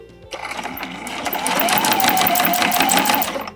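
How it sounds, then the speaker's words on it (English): A sewing machine stitches around a small fabric tote bag, starting after a brief pause and then running in a fast, steady mechanical whir with rapid needle clatter that grows slightly louder, close up. "I'm going to stitch around with 1/8 of an inch seam allowance"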